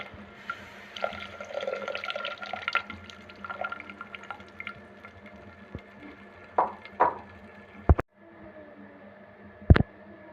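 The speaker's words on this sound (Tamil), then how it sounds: "புளி தண்ணி ஊற்றிக்கலாம்." Tamarind water is poured into a pan of sautéed tomato, onion and garlic for a curry, giving soft, irregular splashes and trickles with a couple of sharp clattering knocks, close and quiet, with no talking.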